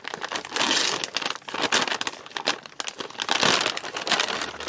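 Close, loud crinkling and ripping of a plastic MRE ration pouch being torn open at its tear notch, in bursts with brief pauses.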